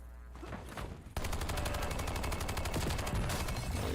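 Sustained rapid automatic gunfire in the video game Warzone on Rebirth Island, loud and close, kicking in abruptly after a quieter moment and rattling on continuously.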